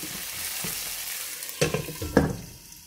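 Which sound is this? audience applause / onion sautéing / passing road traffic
onion sautéing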